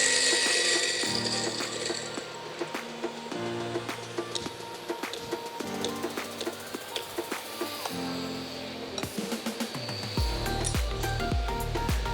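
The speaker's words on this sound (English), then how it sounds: "then we can start and grinding the beans" Coffee beans crackle and grind in a grinder at an ibrik championship, a busy rattling, ratcheting churn that runs close and steady throughout, with sharp clicks and a deeper rumble near the end.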